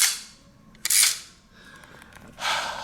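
An arcade machine's mechanical quarter coin mechanism clacks sharply as the lever is pulled, giving several loud metallic snaps and rattles a short distance away, with no talking.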